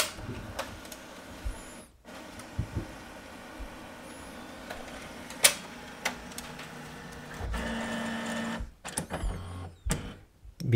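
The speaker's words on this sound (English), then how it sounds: "the printer will take one by one each pages" Quiet mechanical whirring and rolling hum with intermittent clicks and clunks, paper-feed sounds repeating irregularly from a nearby HP LaserJet MFP M234sdw laser printer feeding pages while scanning.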